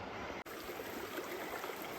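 Rushing mountain creek water along a long hiking trail, a steady broadband roar from nearby running water that continues without pause, with one very brief dropout near the start.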